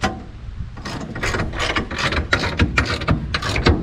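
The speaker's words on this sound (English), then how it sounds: "I'm gonna use a ratchet to start it." A ratchet fitted with a 15/16 socket cranks down a fifth-wheel hitch bolt, giving a fast run of sharp clicking bursts, close and fairly loud.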